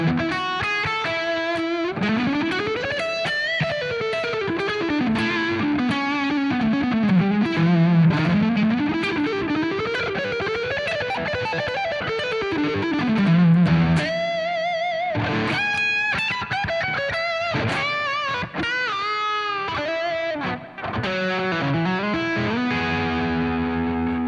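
An electric guitar through the Rev amplifier plays sustained, gliding distorted lead lines over chords, with a thick throaty tone and effects coloring, loud and close with no voices.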